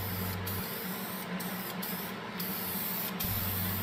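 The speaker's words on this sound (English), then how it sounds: "To finish off these pieces, I am using some spray lacquer from a company called Deft" Deft satin spray lacquer hisses steadily from an aerosol can onto wooden pieces in a workshop, in a quiet continuous spray with a few brief breaks and no talking.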